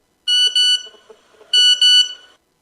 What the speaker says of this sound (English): suddenly, the chief receives a text message